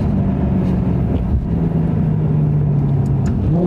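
A 2009 Maserati GranTurismo S accelerates hard, its loud engine droning steadily and rising slightly in pitch as it pulls, heard from inside the car with no talking.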